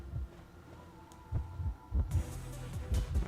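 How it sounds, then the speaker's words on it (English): Heartbeat warning effect from the Identity V game as a hunter nears: steady, low, throbbing double thumps repeating under a faint hum, growing slightly louder and denser toward the end. "I don't know why I already have a heartbeat."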